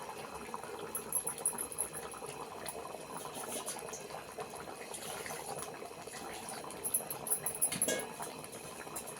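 Masala paste of fresh coconut and spices is poured into simmering mutton paya curry, making a steady bubbling, gushing wash of liquid sound. It is close and continuous, with no voices.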